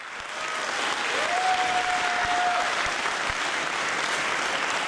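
Steady, full audience applause at a panflute festival in Halle, Belgium, sustained and even throughout with a brief whistle or tone rising above it.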